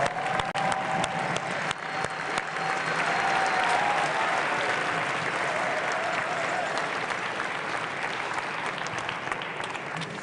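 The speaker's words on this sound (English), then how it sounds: "Let's give our judges a round of applause." An audience claps for the judges at the opening ceremony of the 2018 FTC Relic Recovery South Super Regional robotics championship. Loud, sustained crowd applause holds steady for about ten seconds, with no talk over it.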